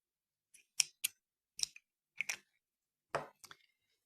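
Scissors snip through a length of embroidery thread in a handful of short, crisp cuts, close and fairly quiet, spaced irregularly with brief pauses in between and no talking.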